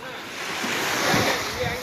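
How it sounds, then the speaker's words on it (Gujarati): Ocean waves wash in and recede along the shore, a broad, rushing surf swelling toward the middle, with wind buffeting the microphone throughout. "જેમ હું આ મોજા આવે છે ને જાય છે"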